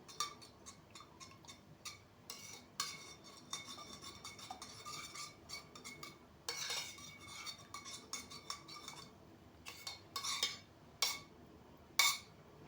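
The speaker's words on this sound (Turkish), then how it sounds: "Ve sıvı yağ ile margarinimi karıştıracağım." A utensil clinks and taps repeatedly against a bowl while vegetable oil and margarine are stirred together for a börek, the sound quiet and close with uneven rhythm and no talking.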